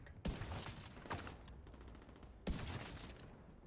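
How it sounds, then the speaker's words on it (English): Sniper rifle headshots in a shooter video game: two sharp, loud gunshots about two seconds apart, each with a short ringing tail, over steady busy game noise. "So that was 2 clean headshots."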